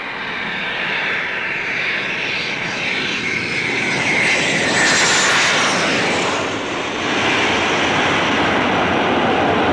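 Aircraft fly overhead in a Cuban war film, their engines making a loud, continuous rumbling drone that swells slightly in the middle and holds steady throughout, with no voices.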